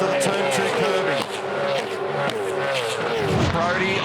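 A pack of Supercars race cars passes by on a street circuit during a race, a loud, dense wall of high-revving engine roar with shifting pitches as the train of cars rockets through. A commentator talks over it.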